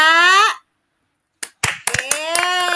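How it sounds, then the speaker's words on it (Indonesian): After a short silence, a few scattered claps from elementary school children break out in a classroom, uneven and close, mixed with someone talking. "Yuk kita beri aplaus tepuk tangan untuk teman-teman kalian yang sudah berani membaca."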